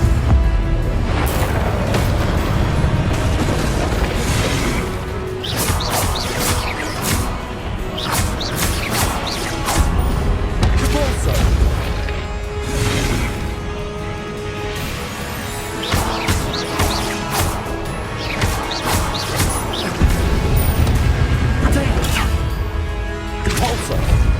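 Repulsor spell blasts in Hogwarts Legacy, a continuous loud barrage of whooshing force bursts and crashing impacts mixed with other spell effects and combat noise, dense and unbroken.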